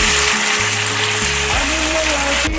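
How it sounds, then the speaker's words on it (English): Meat shallow-fries in hot oil, a loud, close, continuous sizzle, with a brief voice over the frying. "shallow fry my meat"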